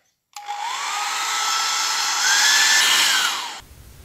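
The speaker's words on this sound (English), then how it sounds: "a go with this here hairdryer." A hair dryer switches on abruptly, blows steadily with a rising motor whine for about three seconds over a watercolour painting with salt, then cuts off. Close and loud, no voices.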